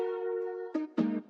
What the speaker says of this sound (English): So I went into this analog lab bank and grabbed this Oracle textured key.